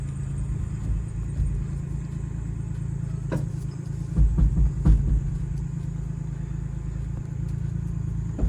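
An old, rusted-out Rabbit car cruises along with a steady, close engine rumble, a few soft bumps and knocks rising briefly midway.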